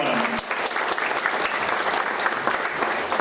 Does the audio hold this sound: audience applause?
yes